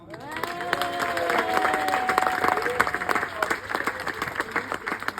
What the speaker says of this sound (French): je vais vous demander plus d'applaudissements, les gars.